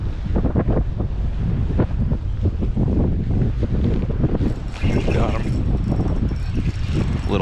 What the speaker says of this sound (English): So let's keep pushing along against the wind.